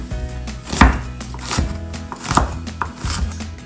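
Knife chopping garlic on a cutting board: a handful of sharp, uneven thuds and clacks, close and fairly loud, with no talking.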